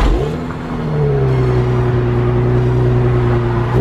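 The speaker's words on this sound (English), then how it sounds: "Let me go ahead and start this thing up so I can let the top down and give y'all a nice cold start." A custom Nissan 350Z convertible's engine cold-starts with a loud crank and catch, then settles into a steady, high idle that drones on close by with no talking.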